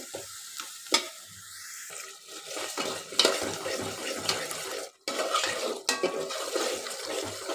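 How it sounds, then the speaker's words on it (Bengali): Spice paste (masala) being fried in a pan for Qurbani meat curry, with stirring scrapes, soft sizzling and clinks of a utensil against the pot, fairly close and continuous with brief pauses. "তো এই তো মশলা কষানো শেষ"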